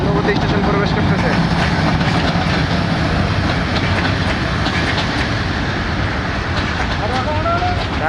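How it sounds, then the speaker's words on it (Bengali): Mohanagar Godhuli, a Dhaka-bound intercity train hauled by locomotive 3008, rolls into Hasanpur Gunabati station. A steady loud rumble of wagons runs throughout, with a clanking rhythm and some squealing near the end, and voices mixed into the noise. "ঢাকা অভিমুখী আন্তনগর মহানগর গুদলি 3008 লোকোমোটিভ নিয়ে হাসানপুর গুণবতী স্টেশন প্রবেশ করতেছে।"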